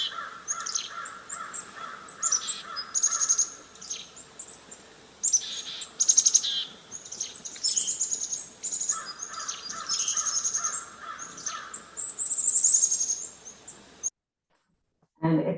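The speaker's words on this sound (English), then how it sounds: "the mobbing call of the black-capped chickadee" Black-capped chickadees give their mobbing call, with repeated bursts of buzzy, scolding notes and sharp high chips, loud and close, coming in waves before a brief silence and a final short burst.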